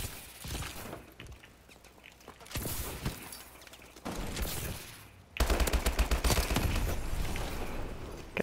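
Video game gunfire from Call of Duty: Advanced Warfare team deathmatch, with bursts of automatic shots at moderate volume and a louder, denser stretch of rapid fire toward the end.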